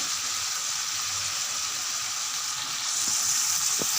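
Oil sizzles and fries steadily in a pan while a homemade mango pickle is being cooked, a close, continuous hiss that grows a little brighter near the end, with a few faint clinks.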